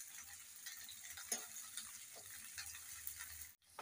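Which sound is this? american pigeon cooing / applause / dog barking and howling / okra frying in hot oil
okra frying in hot oil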